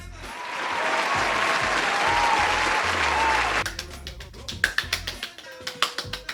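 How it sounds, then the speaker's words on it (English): A crowd's thick, sustained applause lasts a few seconds, then thins abruptly into a handful of distinct, loud individual claps in an irregular pattern. "So put your hands together. Here comes the clap."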